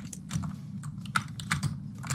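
Keys clatter on a computer keyboard in quick, uneven bursts of clicks, close up over a low background hum, with no talk.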